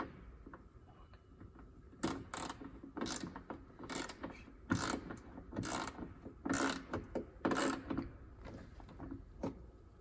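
Window adjustment is tightened on an E30 325i convertible, with a run of close, sharp ratcheting clicks in quick bursts against a quiet background.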